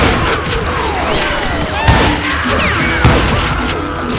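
Gunfire in the Western shooter Call of Juarez: Gunslinger, a dense ongoing battle with continuous crackling shots and two sharper, louder reports standing out from the din.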